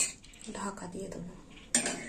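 A lid clanks onto a metal cooking pot while potatoes and pointed gourd simmer in a spiced curry, with scattered clinks and a sharp, close clatter near the end, alone with no talking.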